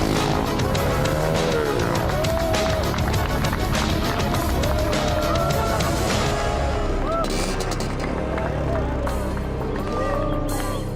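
Motorcycles ridden fast by young riders on a road rev and whine past with rising and falling engine pitch, loud and close, mixed with people talking.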